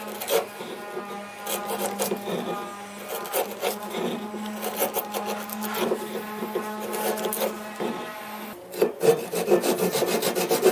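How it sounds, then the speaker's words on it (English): Hand saw cutting along the edge of a wooden exterior door, a steady back-and-forth rasping of strokes, close and even in rhythm, with a brief pause before the sawing resumes faster. "Just enough pressure to keep the saw moving backwards and forwards."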